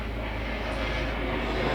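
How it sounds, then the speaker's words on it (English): A helicopter flying overhead makes a steady, fairly loud low drone with a faint rhythmic throb that holds evenly throughout, no voices. "There's a lot of helicopter activity today"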